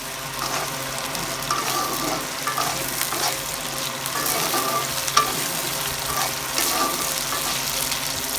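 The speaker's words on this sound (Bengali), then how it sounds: "তেলটা গরম হয়ে গেছে, তেলের মধ্যে একটু ভেজে নেব" Loitta dried fish sizzling in hot oil while being stirred, a steady close hiss broken by repeated scraping and turning strokes and occasional sharp crackles, with no voices.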